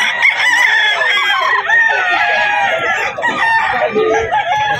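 A Bull Stag rooster at a pet market crows loudly and close by, its drawn-out calls overlapping with clucking from other fowl in a dense, continuous din.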